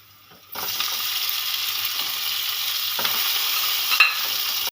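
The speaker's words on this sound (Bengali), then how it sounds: "এই পেঁয়াজটাও দিয়ে দিলাম দেখুন সবগুলো ভালো করে ভাজা হয়ে গেছে" Onions sizzle and fry steadily in a pan for an egg tadka, a loud continuous hiss that starts abruptly after a brief quiet moment, with light stirring scrapes mixed in.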